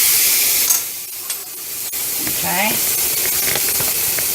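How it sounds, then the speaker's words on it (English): A sirloin steak sizzles in a hot pan with a steady, close hiss and crackle, while a person briefly speaks over it. "now I want you to hear the sizzle"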